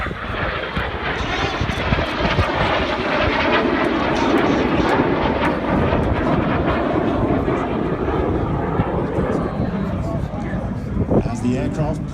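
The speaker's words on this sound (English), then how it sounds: "As the aircraft pull out behind us, the smoke goes off." Red Arrows jet aircraft roar past at an air show in New York, a loud, sustained engine rush that fills the scene and stays steady, with a commentator talking over it throughout.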